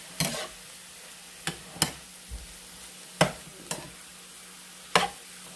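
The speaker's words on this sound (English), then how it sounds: "I'm just trying to fold everything in it so I can add more rice" Cold cooked rice folded into a hot pan on high heat, a soft sizzle underneath punctuated by about six sharp spatula scrapes and taps at uneven intervals, close and fairly quiet.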